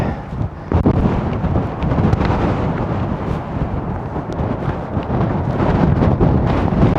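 Loud, gusty wind pounds the microphone at Tintagel on the coast with a continuous rumbling roar and uneven thumps, no other sounds audible.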